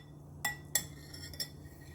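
A utensil scooping keto chaffle batter out of a bowl, giving a few faint, sharp clinks and scrapes against the dish in a quiet kitchen.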